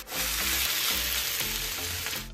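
Boiled pork dropping into hot oil with onion, ginger, garlic and dried chillies, a loud close burst of sizzling that swells quickly and crackles steadily before easing slightly.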